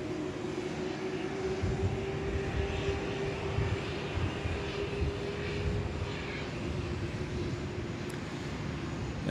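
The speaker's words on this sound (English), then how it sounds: "Bit of a spool up now for our Qatari here on the apron." Qatar Airways jet engines spool up on the apron at Sydney Airport, a loud, steady roar with a sustained low hum that holds throughout, with no talking over it.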